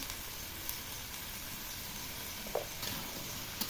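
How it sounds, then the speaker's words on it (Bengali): Bottle gourd and green chillies stir-frying in a pan, giving a steady, quiet sizzle throughout with a few faint scrapes of stirring. "এখন লাউ দিয়ে দিলাম, নেড়ে চেড়ে দিলাম, কাঁচামরিচ দিয়ে দিলাম"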